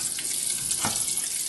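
Butter melting over medium heat in a pan, giving a steady soft sizzle with faint stirring scrapes and a brief swell near the end, no talk.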